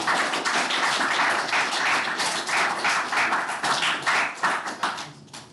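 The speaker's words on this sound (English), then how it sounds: "I'm clapping for you guys because now you can do art." Hands clap in a fast, steady burst at a 2D game art workshop, the dense patter holding for several seconds before thinning out at the end, with no talking over it.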